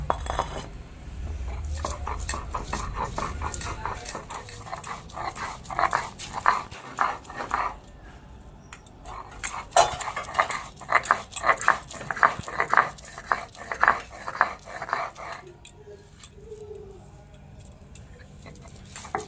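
Dried shrimp (shutki) being ground into a paste, a long run of rhythmic rubbing and scraping strokes with occasional knocks, close and steady throughout.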